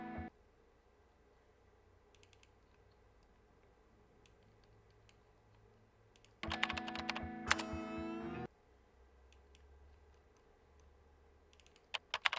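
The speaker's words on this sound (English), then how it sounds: "she's typing on the keyboard" Faint, sparse clicks of typing on a computer keyboard, prepared as a film sound effect, interrupted by a louder two-second burst of rapid clattering keystrokes before settling back to scattered taps.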